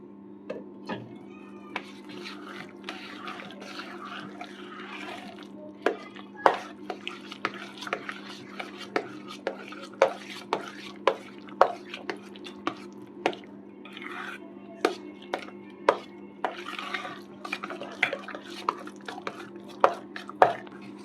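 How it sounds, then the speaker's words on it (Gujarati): Strawberry syrup being stirred little by little into shrikhand, giving a run of repeated soft spoon clicks and wet scrapes against the bowl at close range, with no talk. "થોડું થોડું એડ કરતા જશું અને મિક્સ કરતા જશું"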